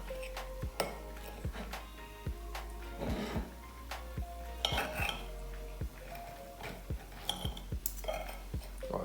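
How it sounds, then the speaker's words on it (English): Knife and fork cut into a steak on a plate, sounding as a string of sharp, close metallic clinks and scrapes against the dish at irregular intervals, quiet and alone. "Cut into the steak."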